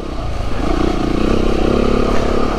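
A Beta 390RR dirt bike engine drones loud and close, its revs held high and rising slightly in a continuous rough roar.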